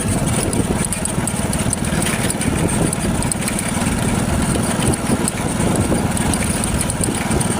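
A motorcycle engine hums steadily during a rural road ride, a constant close drone with no pauses and no talk.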